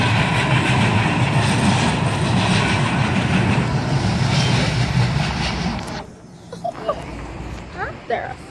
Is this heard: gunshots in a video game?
no